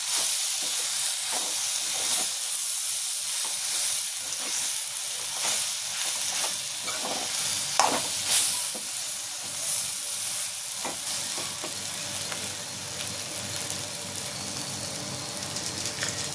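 Masala ingredients for mutton curry sautéing in a pan in a home kitchen, a steady loud sizzle and hiss with occasional stirring scrapes throughout, no talk.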